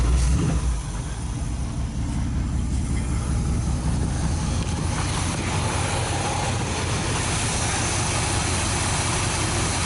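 A 1973 Dodge D100 pickup truck engine catches at the start and settles into a loud, steady, rumbling idle close by, with no talk over it.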